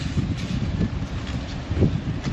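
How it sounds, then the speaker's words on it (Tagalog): Wind gusting over a microphone outdoors at a car sale lot, a steady low rumble with swelling buffets, fairly loud and continuous with no voices. "Yan na naman ang hangin."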